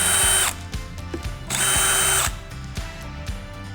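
Two loud bursts of a power drill remove a hinge from a cabinet door, each high whir lasting under a second, separated by softer clicking and ratcheting of the mechanism, with no talking.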